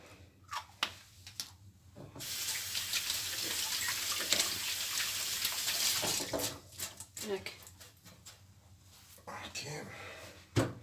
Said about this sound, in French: Moi je vais me laver les mains après.